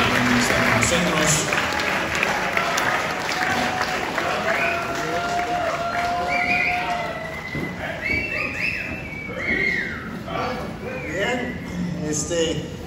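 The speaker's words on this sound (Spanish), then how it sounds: "vamos a darle un fuerte aplauso una vez más a Pastor Randy que está con nosotros" Congregation applause for a pastor at a Spanish-language revival campground gathering, dense clapping and cheering that swells and dips over thirteen seconds, with voices and a whoop or two cutting through.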